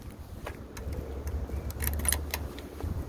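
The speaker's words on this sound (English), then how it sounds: "Hold on, I gotta get my keys." Keys jangle in several short metallic bursts over a low steady engine-like hum, close by and with no talk.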